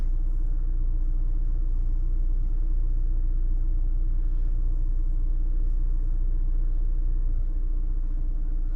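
A 2019 Mazda CX-5 engine idles high with a fault, giving a steady low rumble that stays constant and close throughout without voices.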